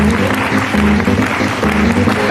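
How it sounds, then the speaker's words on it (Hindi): Loud, dense applause from a seminar audience at an RCM business meeting, steady and continuous throughout with a few tonal murmurs beneath. "एक बार जोरदार तालियों के बीच मैं माइक्रोफोन उन्हीं को दे रहा हूं।"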